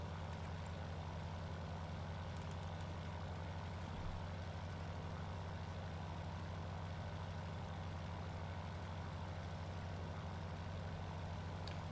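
Engine drone of a 1919 Junkers F.13 passenger plane in flight, heard from the passenger seat in a flight game, a steady low hum with a strong tone that holds unchanged throughout.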